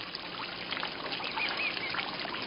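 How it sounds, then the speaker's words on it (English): Water trickles in a quiet, steady flow while a few brief bird calls chirp faintly above it in an outdoor setting. "I hear the water. I hear the birds."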